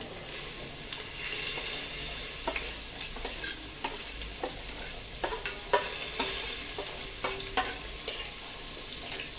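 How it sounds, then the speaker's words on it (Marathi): Finely chopped onion fries in a pan with curry leaves for a Marathi potato curry, a soft steady sizzle under repeated scrapes and taps of a spoon stirring it, fairly close and moderately quiet. "हा बारीक चिरलेला कांदा छान मस्त पैकी सोनेरी रंगावरती परतून घ्यायचा आहे"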